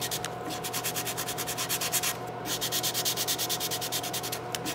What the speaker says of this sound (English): So I'm moving to a different area of the sandpaper because it will kind of plug up.